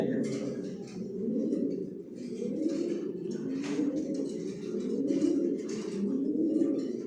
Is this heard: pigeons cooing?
yes